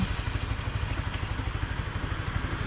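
A Honda CB150 LED motorcycle with a faulty TPS sensor idling rough and low, its engine thumping in an even, rapid pulse that sounds close and steady throughout.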